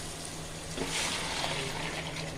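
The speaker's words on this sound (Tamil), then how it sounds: "அந்த தண்ணி நான் அதில் ஊற்றுறேன்" Pre-heated water is poured into a pan while making rava kichadi, a short splashing, trickling rush that starts after a quiet moment and carries on softly, close by.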